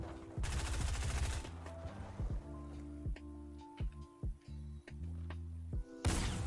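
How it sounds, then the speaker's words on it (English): Gunfire from the Fortnite video game comes in several rapid bursts and single shots, sharp and loud, spread through the clip with short pauses between them and no talking. "I'm shooting anyways. I already shot it."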